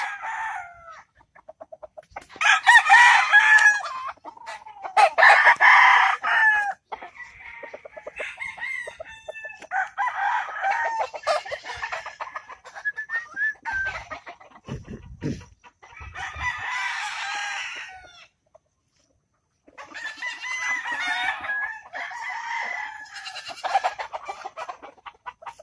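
A fighting rooster, a brooder cockfighter, crows and clucks in several loud, close bursts separated by short pauses, with no talking.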